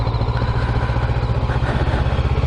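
A 2026 Honda NX500 motorcycle idles close up, its engine holding a steady, even pulsing thrum with a light mechanical clatter and no voices over it.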